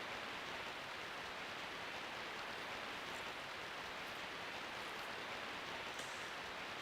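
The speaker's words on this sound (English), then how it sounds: "And now we've got, like, the sound of rain" Rain ambience in the video game DreamWeb, a soft, even hiss of falling rain that stays constant and faint throughout with no other sounds.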